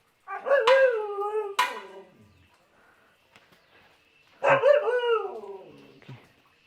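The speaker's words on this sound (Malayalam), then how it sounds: "നല്ല ഹെൽത്തി ആണ് ഡോഗ്" A healthy, good-sized purebred dog lets out two long, loud howling barks close by, each drawn-out cry separated by a quiet pause with faint background noise.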